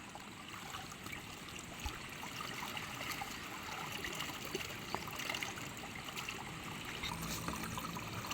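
Cold water from a natural spring used for drinking flows in a steady, even trickle and gurgle. It runs close and unbroken, with no voices.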